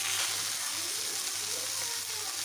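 Fish frying in hot oil, a close, dense, steady sizzle that fills the whole moment without letup, no talk.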